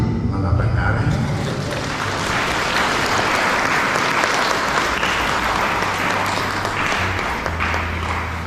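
Guests at a church wedding applaud during the garland exchange with sustained, dense clapping. It runs loud and unbroken for several seconds, with voices faintly underneath.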